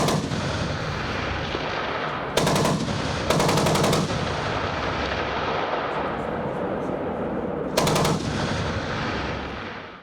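Machine guns fire in long sustained bursts during a military live-firing exercise, loud and continuous across the whole stretch, with sharper, louder volleys cutting in at intervals and no talk.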